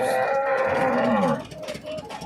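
A large cow at the Sardar Nagar cattle market in Hyderabad gives a loud, close moo lasting over a second, then market noise carries on more quietly.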